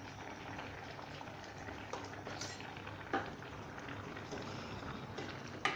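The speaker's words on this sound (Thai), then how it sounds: "เร่งไฟกลางให้เดือดเลยนะคะ" A Thai coconut curry with fresh bamboo shoots and shrimp comes to a boil in a pot over medium heat, a faint, steady bubbling and simmer with occasional soft pops, no voices.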